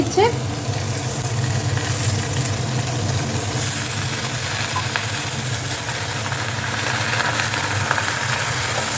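Potatoes fry in hot oil with a loud, continuous close sizzle, mixed with a low steady hum and faint stirring.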